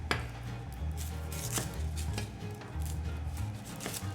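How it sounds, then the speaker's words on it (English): Kitchen knife cutting an onion on a board during a pasta-making class, a series of sharp, distinct chops at an irregular pace with quiet gaps, close and fairly soft. "while I cut the onion"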